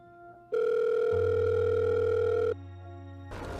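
A steady electronic telephone tone holds for about two seconds, joined by a lower hum, then cuts off abruptly, leaving quieter background noise.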